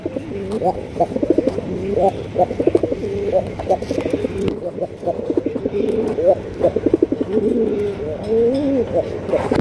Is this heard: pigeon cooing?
yes